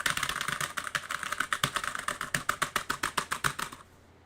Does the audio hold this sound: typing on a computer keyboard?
yes